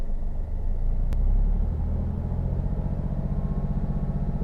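A passenger car engine revs up toward 2000 rpm, a deep close rumble that swells briefly and then settles into a steady pulsing drone, heard alone.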